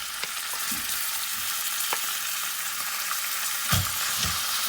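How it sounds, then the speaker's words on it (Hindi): Minced meat frying in a pan over garlic-ginger paste, a steady close sizzle and crackle with a few soft stir scrapes, no voices. "कीमा ऐड कर देंगे।"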